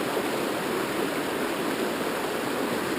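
Steady rushing of creek water flowing in a deep forested canyon on the Oregon north coast, loud, close and continuous with no voices.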